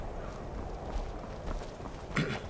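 A horse's hooves clop at a slow walk in the video game Skyrim, in the ruined village of Winterhold, soft and fairly distant under a steady ambient hum, with one sharper step near the end.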